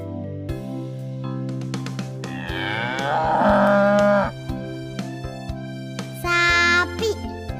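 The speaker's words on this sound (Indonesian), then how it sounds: "Itu namanya sapi." A cow moos in two long, loud, drawn-out calls, the first lasting over a second and the second shorter, set against a steady tonal musical backing.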